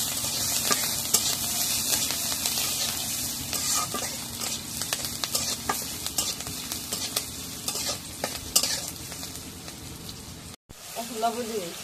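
Oil hits a hot pan while chalta (elephant apple) pickle is cooked in a rural kitchen, making a steady close sizzle with constant stirring scrapes, and a voice speaking now and then.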